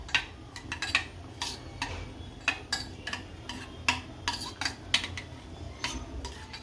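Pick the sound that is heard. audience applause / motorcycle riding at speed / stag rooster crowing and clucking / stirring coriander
stirring coriander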